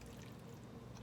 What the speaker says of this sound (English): we're just going to take our dressing mix and pour it right over